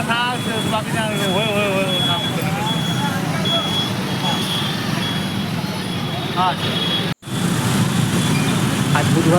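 A car moves through busy evening town traffic on the railway station road in Kudal on a crowded Wednesday market day, with a steady roadway rumble, passing vehicles and a reversing beep, while people talk throughout.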